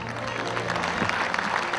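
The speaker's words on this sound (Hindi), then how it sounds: "तो ये इनके लिए ताली होना चाहिए।" Audience clapping at a live stage event, a short burst of steady applause at moderate distance.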